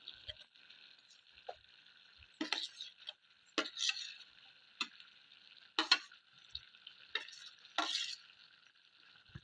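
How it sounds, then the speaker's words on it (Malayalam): A spoon stirs spice paste through a pan of raw banana curry, giving a run of wet scraping and squelching strokes with short pauses between them, close and moderately loud, over a faint steady sizzle. "ഇതെല്ലാം ഒന്ന് കലക്കി വെക്കുക"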